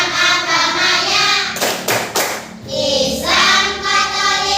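Rhythmic hand clapping by a classroom group, likely children, doing a tolerance clapping ice-breaker, with short bursts of claps between loud chanted voices.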